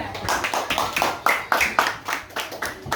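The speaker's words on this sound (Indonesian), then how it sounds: "Tepuk tangan untuk kelompok 2." Primary schoolchildren in a classroom clap in unison for group 2: about a dozen sharp, evenly spaced claps in a steady rhythm, fairly close and clear.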